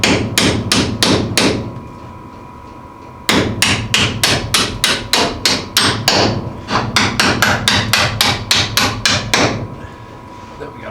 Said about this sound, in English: Might have to hammer the end a little bit because got a little bit of paint buildup